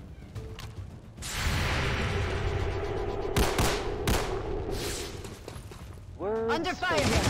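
Gunfire in the tactical strategy video game XCOM 2, bursts of shots and loud booms among busy game noise, with a sharp hit near the midpoint and a voice speaking over parts of it.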